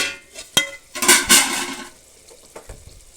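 A ground mixture of tomato, tamarind, green and dry chillies, ginger, garlic and pepper for rasam is poured into a pot. A sharp knock is followed by a loud, brief gushing splash of liquid, then a few small clinks as it settles.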